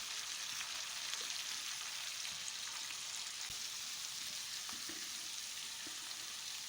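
Finely chopped garlic sautés with onions in a pan, giving a steady, soft sizzle that stays even throughout, with a few faint clicks of stirring and no talking.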